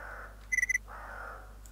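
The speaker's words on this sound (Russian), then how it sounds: "Ворона." A crow caws in the S.T.A.L.K.E.R. mod Old Good Stalker Evolution (OGSE 0.6.9.3): a quick run of about five sharp, harsh calls rises in the middle of the clip over a steady low game hum.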